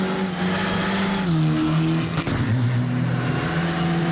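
A Mitsubishi Lancer Evo 9 rally car in the Richard Burns Rally game drives at racing speed, its engine droning loudly and shifting pitch through gear changes, with a brief rough burst midway and no talking.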